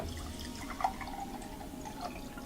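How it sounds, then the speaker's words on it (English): Water is poured from a Chillswell water machine into a glass, a faint steady trickle with a few light drips and splashes nearby. "let's pour the water out of the Chillswell Water Machine."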